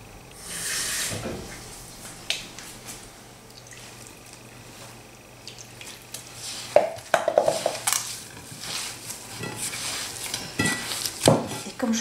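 Makrout dough of fine semolina and water being gathered together by hand in a bowl, giving soft, faint squishing and pressing sounds with occasional light clinks of the bowl, no voices.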